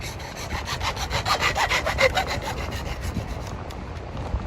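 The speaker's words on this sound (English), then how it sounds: "what we do is we cut off about 5 or 6 inch piece," A handsaw cuts off a five-to-six-inch piece of drain pipe with steady, rhythmic back-and-forth strokes, close and fairly loud, with no talking.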